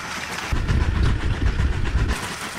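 A LEGO toy train runs along plastic track beneath a LEGO car, making a close, steady rattling rumble that starts abruptly, holds for about a second and a half, then cuts off.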